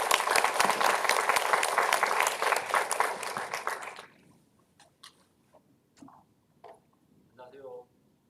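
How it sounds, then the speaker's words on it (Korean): An academic forum audience gives loud, full applause to welcome a professor, the dense clapping lasting about four seconds before cutting off abruptly to near silence with a few faint, scattered sounds. "정재영 교수님을 큰 박수로 맞아주시기 바랍니다."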